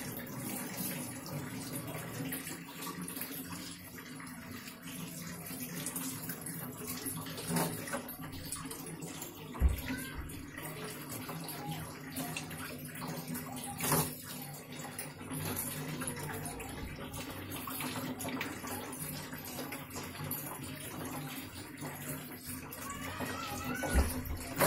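Water splashes and runs continuously while a sulcata tortoise is bathed, a soft steady pouring wash with occasional louder splashes and thumps, fairly quiet throughout.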